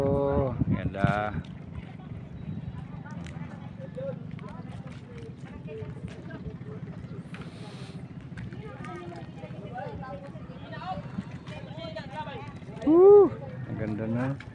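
A lancha motorboat runs steadily on the water with a low engine drone and wind buffeting, while people talk over it throughout.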